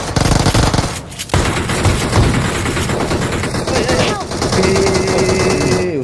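Rapid automatic gunfire in a video game rattles loudly and almost continuously, with short gaps between bursts, as voices murmur underneath.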